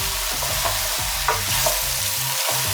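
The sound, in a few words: sausages frying in simmering oil in a pan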